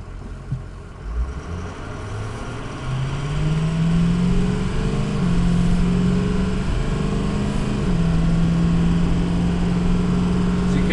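A 2007 Ford F350 diesel pickup engine in four-wheel drive drones steadily, rising in pitch and holding as it pulls under load, a continuous close mechanical rumble with no talking.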